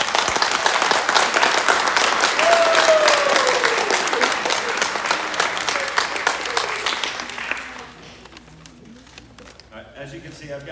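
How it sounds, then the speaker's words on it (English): A school audience at a 2021 high school senior awards night gives students a loud, dense round of applause that carries on for several seconds, then fades to scattered clapping and a quieter room. "how about another round of applause for those students?"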